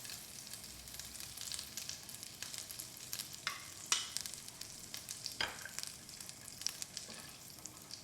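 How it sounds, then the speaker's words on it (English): Butter melting with olive oil in a pan gives a soft, steady sizzle with light crackles and a few sharper pops, fairly quiet and close, with no voices. "we add the butter. Let the butter melt a little. Incorporate the olive oil."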